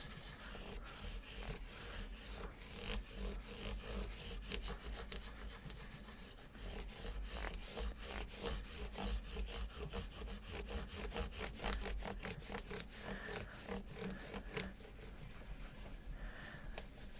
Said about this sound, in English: So I'm going to keep polishing these frets.